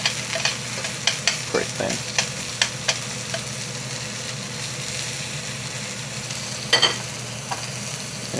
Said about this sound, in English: Doesn't take a lot for the green onions to grill